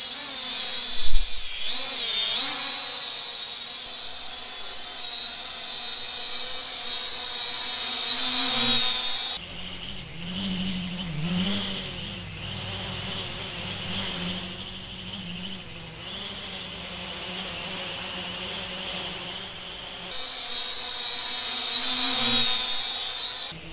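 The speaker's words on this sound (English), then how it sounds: "I'll play a few clips of the old drone so you can hear the difference." A quadcopter drone's propellers whine loudly and steadily, the pitch shifting as it maneuvers, with no talking.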